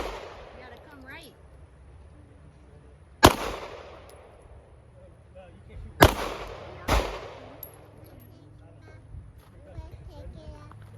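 Three sharp, loud Glock pistol shots crack out at a shooting range, spaced a few seconds apart with the last two close together, each ringing briefly over faint background voices.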